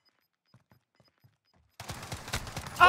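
Gunfire in Call of Duty Modern Warfare: a few faint, distant pops during the first second and a half, then a loud close burst of shots from about 1.8 s that grows louder toward the end.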